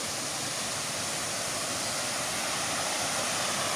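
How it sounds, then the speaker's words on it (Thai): The Mae Pan waterfall rushes in a steady, dense roar of flowing water, heard from some distance along the trail, with no breaks or voices. "ได้ยินเสียงน้ำนะครับนี่"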